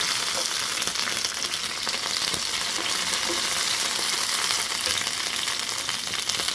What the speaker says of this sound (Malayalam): ഇനി അതിലേക്ക് ആദ്യം നമ്മൾ ഇടുന്നത് ഇതാണ് വറ്റൽമുളകാണ് അത് നന്നായിട്ടൊന്ന് വറുത്ത് കോരിയെടുക്കാം